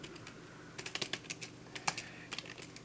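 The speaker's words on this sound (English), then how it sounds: "and you type in a name" Keys on a computer keyboard are tapped in quick irregular bursts, crisp and close but fairly quiet, with brief pauses between clusters of keystrokes and no talking.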